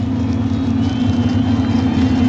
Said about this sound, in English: You see the cars just basically are idling. No high RPM.